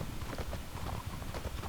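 Horse hooves clip-clop steadily and continuously as a mount travels in the video game Mortal Online, a rhythmic, fairly loud gait with no talking.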